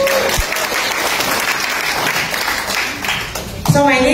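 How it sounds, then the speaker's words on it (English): A live audience at a morning business opportunity seminar bursts into loud, sustained applause, a dense wash of clapping that fades near the end as a voice starts speaking. "can you give yourself a big round of applause?"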